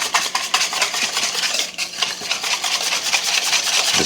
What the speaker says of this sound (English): we're just gonna give this a whisk.